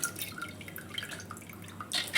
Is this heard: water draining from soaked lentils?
yes